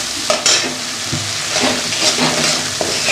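A spice paste with turmeric and mustard fries in a wok, a steady loud sizzle with scraping stir strokes sounding every half second or so, close up.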